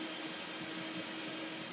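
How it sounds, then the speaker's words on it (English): Gaming computer case fans spun up to high speed give a steady, broadband whoosh like a vacuum cleaner, continuous and even throughout with no talking. "I'll jack up the fans so you can hear what they sound like."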